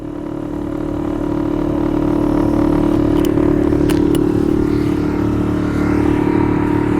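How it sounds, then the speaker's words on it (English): A new outboard motor drives a boat across Chamberlain Lake in Maine, a loud, steady droning hum close by with a few faint clicks over the top. "I've got a brand new outboard without a scratch on the propeller."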